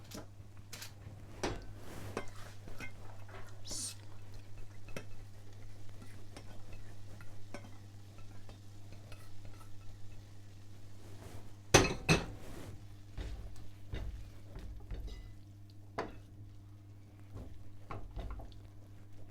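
A spoon stirs cooked pearl barley with other lunch ingredients in a bowl, soft close scraping and mixing sounds with an occasional sharp clink of metal against the dish over a low steady hum.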